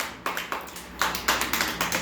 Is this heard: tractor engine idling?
no